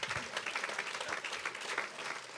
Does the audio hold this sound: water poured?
no